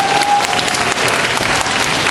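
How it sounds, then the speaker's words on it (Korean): A school audience claps loudly and continuously at a principal's retirement ceremony in 2011, a close, dense burst of applause. "큰 박수."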